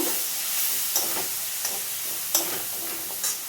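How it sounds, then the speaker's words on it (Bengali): Turmeric, coriander and cumin powder masala sizzle softly in a pan while being stirred, with a steady low hiss and a few scraping clinks of the spatula at intervals. "হলুদ গুঁড়ো দিয়ে দেবো, একটু ধনে জিরে গুঁড়ো একসঙ্গে পাইল করা আছে দিয়ে দেবো, দিয়ে মশলাটা ভালো করে কষে নেব"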